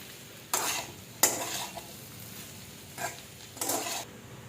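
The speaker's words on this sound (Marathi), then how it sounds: "मीठ टाकल्यावरती परत मी परतून घेतले" Coriander vadi masala being sautéed in a pan after salt goes in, with a few distinct scraping strokes of a spatula against the pan over a low background sizzle, close and spaced irregularly.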